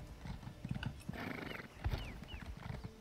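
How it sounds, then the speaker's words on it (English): Horse hooves in the video game Elder Scrolls Online, a series of soft clip-clop footfalls at moderate pace alongside whooshing game effects, with no talking. "Whoops, I just dismounted my horse."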